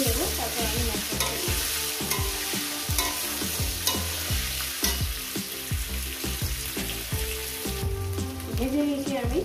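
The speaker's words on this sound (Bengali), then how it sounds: "এটাকে আমি 4 মিনিট ভেজে নেবো।" Spice paste of green chillies, tomato and ground spices fries in a pan, a steady sizzle with repeated scraping stirs in a regular rhythm, close and alone.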